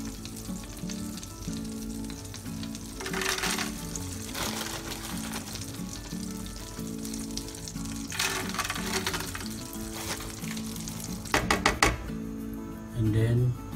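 Butter sizzling in a pan while cooking chicken biryani, a steady frying hiss with bursts of louder sizzle and a few knocks near the end, under a person talking.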